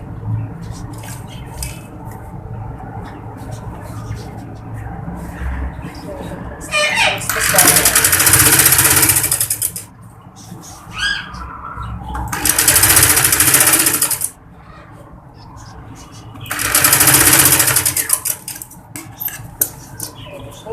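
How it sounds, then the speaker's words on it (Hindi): Electric sewing machine stitching the lining of a baby girl's kurti, running in three loud whirring bursts with pauses between them, over a steady background and a voice speaking. "सबसे पहले हम इस पर सिलाई लगा रहे हैं ताकि जब हम गला बनाए तो ये हमें तंग ना लगे"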